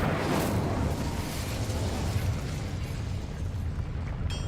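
A fiery blast from the Incendio spell cast in Hogwarts Legacy, a loud, sustained roaring burst with dense low rumble that holds steady for several seconds, ending with a faint bright shimmer.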